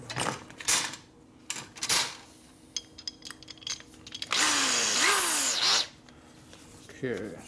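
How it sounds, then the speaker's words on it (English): A power drill bores a hole with a larger bit in a 1957 Harley panhead cylinder head, whining in bursts between clattering handling noises, with one long loud run near the end. "we come back with a bigger drill, and it should follow the hole."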